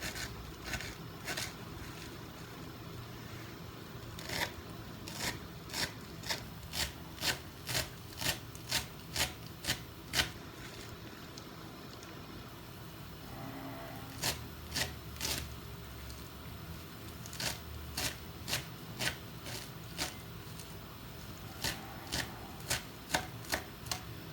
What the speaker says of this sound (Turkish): ince ince doğruyorum maydanozumu